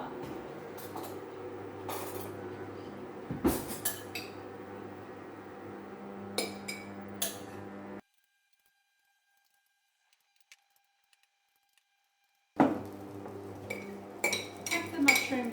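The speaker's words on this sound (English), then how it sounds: "if you grab a hot sterilised jar, then you can transfer all the ingredients into this jar" Marinated mushrooms and dressing spooned from a bowl into a hot sterilised glass jar, with close clinks and scrapes of cutlery on glass and dishes, a quiet gap midway, then more clatter.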